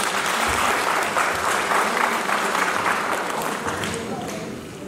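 An audience at a meritorious award distribution ceremony applauds successful candidates, a dense, steady burst of clapping that fills the room and tapers slightly toward the end.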